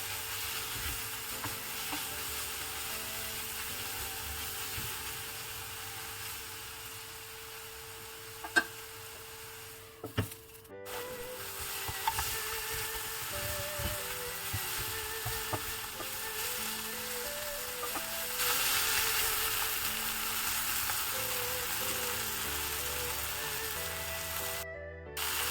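Turmeric, coriander, chilli powder, masala and salt being stirred in a pan for capsicum masala, with a soft continuous sizzle and occasional light scrapes and clinks of the spoon close by.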